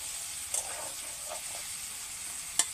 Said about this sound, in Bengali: একটু হলুদের গুঁড়ো দিয়ে ভেজে নেব।